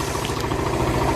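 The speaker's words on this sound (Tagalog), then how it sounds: "Ang motorsiklo na tumatakbo sa Daso Water Fuel." A Suzuki motorcycle running on Daso Water Fuel idles close by, a loud, steady engine rumble with a rapid pulsing rhythm and no talking.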